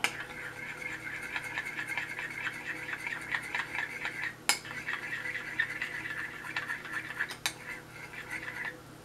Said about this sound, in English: give this a little stir here